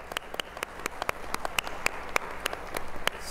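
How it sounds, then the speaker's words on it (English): At a DragonCon late-night panel, a small audience applauds a guest with a thin, scattered patter of individual claps that continues steadily for several seconds. "let's give her a hand clap"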